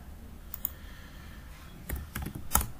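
A few sparse, quiet keystrokes on a computer keyboard in a calm room, small clicks scattered across the moment with a short cluster of taps near the end.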